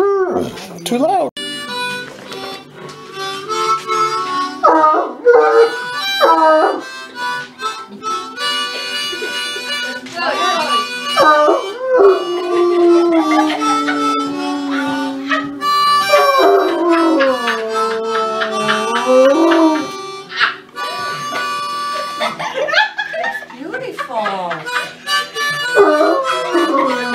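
A bloodhound puppy howls and whimpers in long, wavering, rising and falling cries across the whole stretch, loud and close, while someone speaks softly over it at times.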